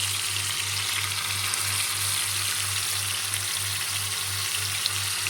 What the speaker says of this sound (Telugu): బాగా కలపకుండా ఇలాగే ఫ్రై చేసుకుంటాను